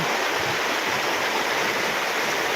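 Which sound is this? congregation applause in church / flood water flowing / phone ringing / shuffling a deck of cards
flood water flowing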